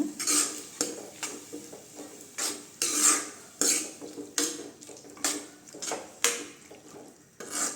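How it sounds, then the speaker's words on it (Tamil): A spoon stirs cabbage and moong dal kootu in a metal pot, giving repeated rhythmic clinks and scrapes close to the microphone, with no talking. "எல்லாம் சேர்த்து நல்லா கலந்து விட்டுக்கலாங்க."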